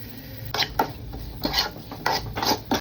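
Pieces of fish are dropped into a cooking pot in a home kitchen, giving a series of short clinks and scrapes of metal and utensils at close range, with no voices.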